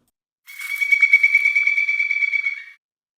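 A single bird call, a steady high trilling whistle with rapid pulsing, lasting about two seconds against total silence.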